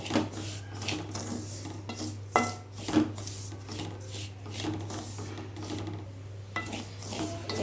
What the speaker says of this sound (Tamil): ரவையை இந்த அளவுக்கு வறுத்துக்கலாம்.